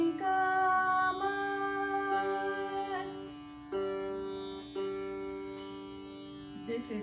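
A sustained plucked string tone on a Vilayat Khan style sitar rings with rich overtones, re-struck a few times with steady drones underneath, close and fairly loud with no talking; it is a reference tuning note.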